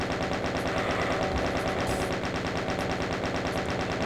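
Rapid, relentless automatic gunfire from a weapon in the shooter game DOOM, loud and continuous with a fast mechanical rhythm and no talking over it.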